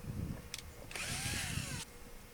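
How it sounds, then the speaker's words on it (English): A power drill bores pilot holes for mounting a security camera: a short burst at first, then a steady, high whine of about a second before it stops, close by and clear. "now we want to hold that camera up with one hand and then drill some pilot holes"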